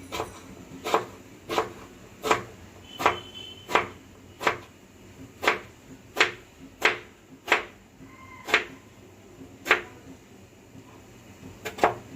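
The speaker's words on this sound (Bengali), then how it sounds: "এরপরে কুচি কুচি করে কাটবো" A knife finely chopping green tomatoes on a board for a Bengali tomato fry, with sharp, evenly spaced taps roughly every half second to second, close and clear, with no talk.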